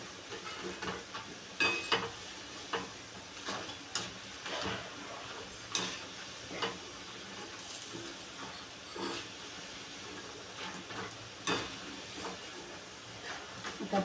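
Moong bhaji deep frying in oil, a faint bubbling hiss broken by scattered ticks and pops at irregular intervals, close by, with no talking.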